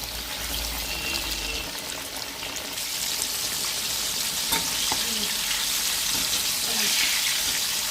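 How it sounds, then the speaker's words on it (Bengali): Fish frying in oil in a home kitchen, a dense, continuous sizzle that stays loud and close for the whole stretch, with faint background voices and clatter. "এদিকে ফিশ ফ্রাই"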